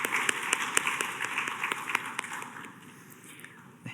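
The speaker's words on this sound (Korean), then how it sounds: "우리 하나님께 영광의 박수 올려드리겠습니다." A church youth congregation applauds indoors in a dense, close round of clapping that fades away toward the end.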